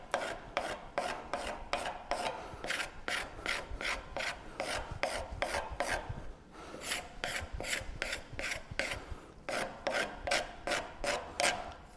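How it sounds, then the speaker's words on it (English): A Milwaukee sander fitted with an 80 grit pad works over yellow pine, giving a steady rasping scrub in quick rhythmic strokes, close and loud with no talking. "we're going to draw some lines and sand those lines off to see how long that takes and what we get"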